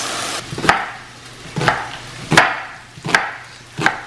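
A kitchen knife cuts onions on a wooden board, five distinct, sharp chops spaced roughly a second apart, close and clear with no talking.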